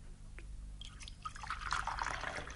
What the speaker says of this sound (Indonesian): Kita dapat menuang teh